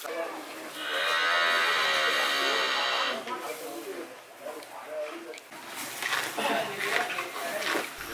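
Bali cattle low with a long, loud moo near the start, followed by rougher calls and lowing mixed with background noise on a farm raising beef cattle.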